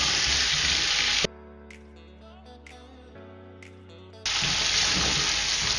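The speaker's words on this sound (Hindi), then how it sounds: "देखिए अभी प्याज की डालने के बाद मैंने 1 मिनट और भूना है इसको" Chicken and fried onions sizzle loudly in a pot, a steady hiss at the start and end. A quieter tonal stretch in the middle briefly breaks the frying sound.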